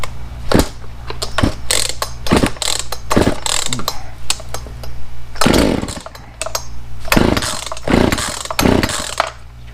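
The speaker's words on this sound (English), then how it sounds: "and I'll start it up, see what happens" A Poulan chainsaw being pull-started, with repeated ratcheting rasps of the starter cord in quick strokes, close and loud, pausing between pulls without the engine catching.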